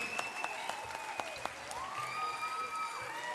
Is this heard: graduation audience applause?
yes